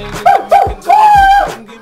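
A dog barks three times in quick succession, the last bark drawn out into a longer yelp, fairly loud and close with no talk over it.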